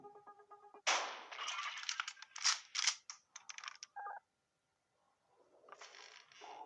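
A shotgun blast in the video game Buckshot Roulette: a sharp, loud crack opens into a burst of crunching mechanical noise and clatter, then a short pause of silence before softer rustling resumes.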